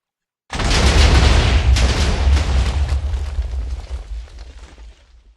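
A large TNT detonation in Minecraft erupts suddenly after a moment of silence, a loud deep boom followed by a few seconds of crackling, rumbling blasts that gradually fade.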